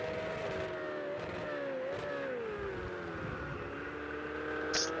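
Ferrari 488 Challenge race car at Azure Circuit in Project CARS, with a steady engine drone whose pitch slides and shifts as it works through corners, fairly quiet and continuous.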